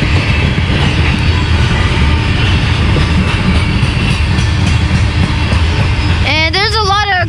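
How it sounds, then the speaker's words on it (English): A train passing on the middle track at Halethorpe station in Maryland, a loud continuous rumble and clatter of wheels close by, ending with a rising squeal of wheels and voices talking faintly beneath. "I'm waiting for this other train coming down the middle track"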